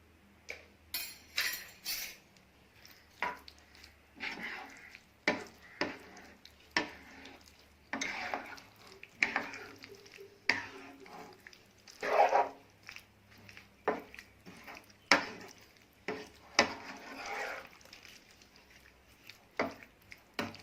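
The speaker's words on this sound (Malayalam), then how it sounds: "ക്രഷ് ചെയ്ത് വെച്ചേക്കുന്ന പെപ്പറും ആവശ്യത്തിന് ഉപ്പും ചേർത്ത് നമുക്കിതൊന്ന് മിക്സ് ചെയ്തെടുക്കാം" Chilli cauliflower tossed with crushed pepper and salt, a spoon knocking and scraping the pan in a steady series of sharp clinks and stirring sounds, close up with no talking.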